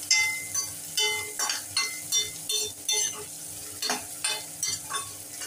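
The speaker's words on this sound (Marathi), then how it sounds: "छान अगदी लालसर होईपर्यंत परतून घेऊया." Chopped onion sautés in a pan with green chilli, a soft steady sizzle broken by repeated scraping and stirring strokes of a spoon against the metal, close and clear with no talk.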